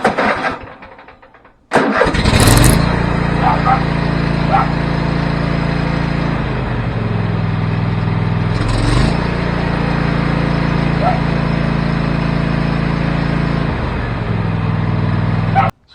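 A Cub Cadet XT1 LT46 lawn tractor engine cranks briefly, catches and roars to life, then runs steadily and loud at close range with slight throttle changes, a couple of short bangs and clicks over the drone.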